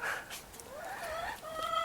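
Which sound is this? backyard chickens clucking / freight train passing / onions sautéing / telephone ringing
backyard chickens clucking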